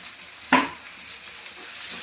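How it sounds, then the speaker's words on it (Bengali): Fish curry gravy with mustard oil bubbles and sizzles in a pot, a soft close hiss marked by one sharp clink of utensil against the pan, with no one speaking. "ঝোলটা দেখুন ফুটে গেছে।"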